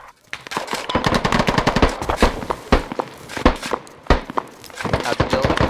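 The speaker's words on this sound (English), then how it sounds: "I'm taking fire from top already." Rapid bursts of gunfire in the Squad military shooter game, sharp repeated shots with automatic-fire runs and heavy thuds, loud and close, with faint voices at times.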